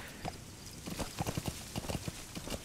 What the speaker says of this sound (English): I have trouble driving these horses.